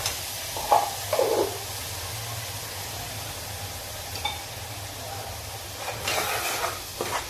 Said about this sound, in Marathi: हे वाटण चांगलं परतवून घेते।